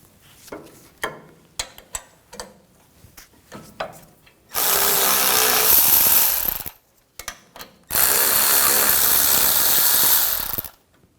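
Two long bursts of an impact wrench or air ratchet spin out the caliper bracket bolts on a 2007-2013 BMW X5 front brake with an E18 socket, each roughly two seconds, loud and close, separated by light clicks and handling knocks.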